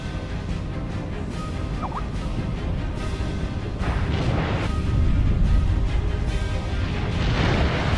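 Naval gunfire in the warship game Steel Ocean: a steady bed of low booms and rumbling blasts, with several broad bursts of firing over about eight seconds, moderately loud and without speech.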